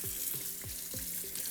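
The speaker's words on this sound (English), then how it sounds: "So now I have the water running" Water runs steadily from a sink tap over a cleaning mat while makeup brushes are rinsed of shampoo, a continuous close hiss with faint rhythmic swishes from the brushes.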